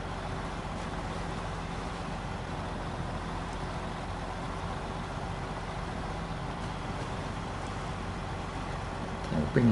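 Steady, droning engine of a heavy truck cruising in high gear in the video game SnowRunner, a constant low rumble with little change in pitch, ending in a brief louder knock.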